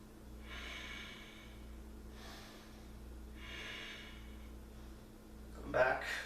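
Slow, deep breaths during a yoga flow session, three long airy inhale-exhale swells close to the mic, ending in a brief sharper burst of sound.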